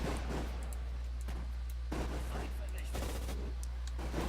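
Gunfire in the Sudden Strike 4 strategy game: scattered distant shots and crackling volleys at irregular intervals over a constant low hum.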